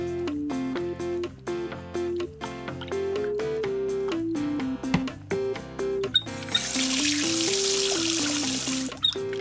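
Cartoon bathwater pours steadily into a tub as a rush of splashing noise, entering partway through and continuing under a light, plinking musical score.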